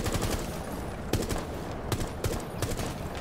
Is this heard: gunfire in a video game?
yes